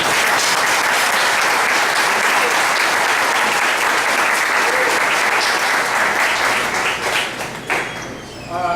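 A room of people at an organization's meeting applaud restaurant staff with sustained, dense clapping that fades near the end as a voice begins speaking.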